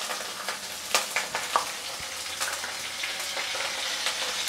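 Fish eggs with turmeric and salt fry in a pan while being stirred, a close steady sizzle punctuated by several sharp spatula scrapes and knocks in the first two seconds.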